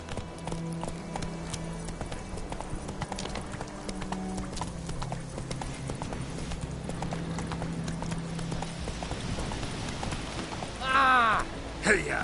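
Roach, a horse in The Witcher 3, gallops with steady rapid hoofbeats under music and game ambience, then a brief burst of louder shouting near the end.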